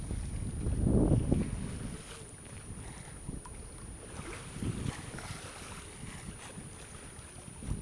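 A sailboat under sail in a light breeze of about ten knots on a Corsica-to-mainland crossing: soft rushing water along the hull and gusty wind noise buffeting the microphone, with a louder gust early on and no talk.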